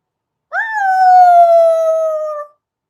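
A neighbours' dog lets out a single sustained, steady howl lasting about two seconds, clear and fairly loud with no other sound around it.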